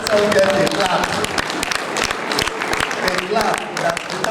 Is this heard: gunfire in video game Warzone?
no